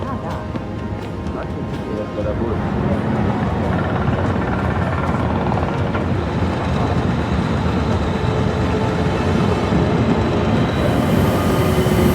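Train rolling along in the Murder on the Orient Express game, a loud steady rumble and rattle of railcars that grows fuller after a couple of seconds, with a voice talking over it.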